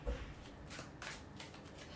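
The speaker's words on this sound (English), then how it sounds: "repeat the same question when you are shuffling your cards" Tarot cards being shuffled by hand, soft, quiet riffling and sliding strokes repeating in short bursts, close and faint with no talk.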